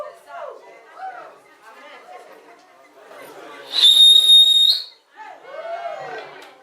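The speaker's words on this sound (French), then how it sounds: "Je ne savais pas siffler, je dois siffler." At a wedding dance, a sharp, steady high whistle holds for about a second amid singing and chatter from the gathered crowd, loud and close.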